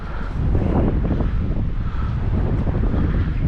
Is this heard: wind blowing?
yes